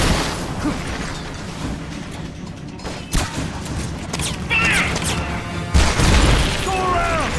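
Grenade blast in the game Metal Gear Solid Peace Walker, a sharp boom over a dense, steady bed of battle noise and gunfire, with a second burst later.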